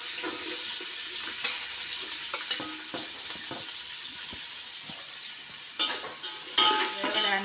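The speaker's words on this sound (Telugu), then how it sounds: "ఆనియన్స్, పచ్చిమిర్చి మంచిగా ఫ్రై అయిపోయినాయి." Onions and green chilies sizzle and fry in a pan, a steady hiss with occasional clinks and scrapes from stirring, heard close up.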